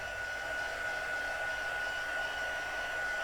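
An embossing heat gun melts embossing powder on cardstock, giving a constant, even blowing roar with a faint whine. It runs steadily throughout with no talk.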